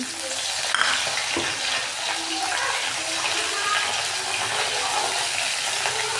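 Curry leaves hitting hot oil in a pan with cumin, mustard seeds and garlic paste, giving a loud, continuous crackling sizzle close by, with a few sharp pops early on.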